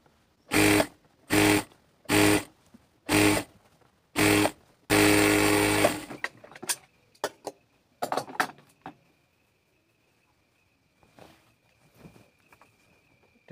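A sewing machine stitches a salwar seam in several short, loud whirring bursts, then one longer run, followed by scattered faint clicks and handling noises.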